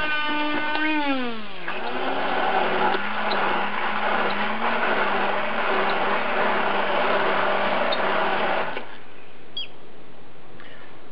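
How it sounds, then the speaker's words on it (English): An immersion blender whirs through cooked beans for a vegan meat substitute, a loud motor whine that rises, dips as it bogs down, then holds steady before cutting off near the end. "you're going to want to blend them with either an immersion blender or with a blender"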